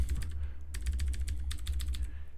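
Typing on a computer keyboard, a quick irregular run of soft key clicks over a low steady background hum, fairly faint and with no voices.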